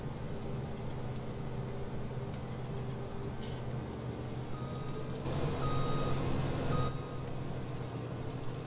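A combine harvester drives in Farming Simulator 17, a steady loud engine drone with tonal hum running throughout, briefly swelling louder midway, with no talk.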